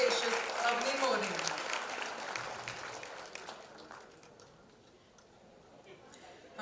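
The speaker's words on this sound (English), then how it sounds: "Welcome her with a round of applause." Audience at a foundation launch event applauding to welcome a guest on stage, a dense patter of clapping loudest at the start and gradually thinning and fading over several seconds, with background chatter.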